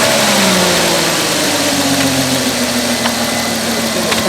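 A 2004 Porsche Cayenne with a bad fuel pump idles roughly, its close, loud engine hum wavering unevenly in pitch with faint knocking and vibration.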